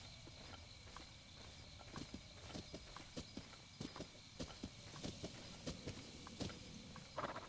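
Horse hooves in the video game The Legend of Zelda: Breath of the Wild clop in a steady, even walking rhythm, fairly close but soft, with no talk over them.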